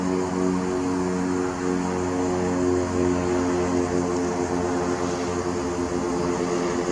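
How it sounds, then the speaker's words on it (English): A steady propeller plane drones overhead, a loud continuous engine hum with a throbbing low tone that holds evenly throughout. "you'd see these planes fly by shitting across the sky"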